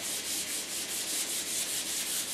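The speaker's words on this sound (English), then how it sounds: "Just give it a nice light sanding overall." Rhythmic, raspy strokes of sandpaper rubbed lightly back and forth over a painted board while making homemade clayboard, close and steady, with no voices.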